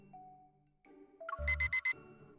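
A video game infrared thermometer beeps when its trigger is pulled: several quick, bright electronic beeps in a rapid burst, following soft tonal game sounds, with no voices.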